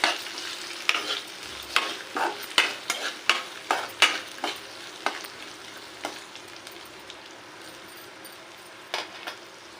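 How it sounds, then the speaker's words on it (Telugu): Garlic sizzles in a hot pan for an amaranth leaf stir-fry, with a spatula stirring in a quick series of scraping clinks over a steady close frying hiss that later settles. "అందుకే నేను వెల్లుల్లి ఎక్కువ వేస్తాను ఇవి కూడా కొంచెం వేగనివ్వాలి"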